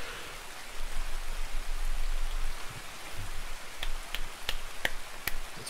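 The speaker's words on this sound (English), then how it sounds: "It's raining, man." Steady hiss of rainfall in a video game with a low rumble underneath, joined near the end by several sharp, isolated clicks or snaps.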